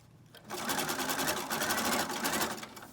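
A sewing machine runs in a steady, fast whir as it stitches down a scrappy fabric piece, starting after a brief pause and holding a continuous rhythmic chatter close up.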